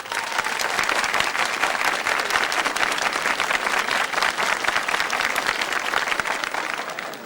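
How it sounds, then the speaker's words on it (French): A studio audience at a 1980 television game show claps loudly and steadily, a dense, even applause that lasts about seven seconds before tapering slightly. "si vous préférez Hilaire Hautefenne, applaudissez"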